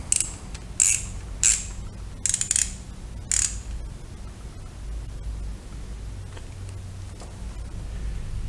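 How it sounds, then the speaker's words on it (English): Several short bursts of ratchet clicking as a pinch bolt is tightened on a 2005 Yamaha FJR1300 motorcycle, close and crisp at first, then quieter clicks over a low background hum. "Tighten the pinch bolt to 88 inch pounds."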